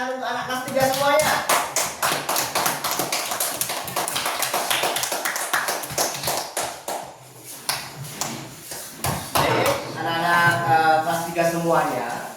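A class of third-grade schoolchildren claps in quick, dense rhythmic patterns, loud and close, with voices chanting and talking over the clapping in a classroom.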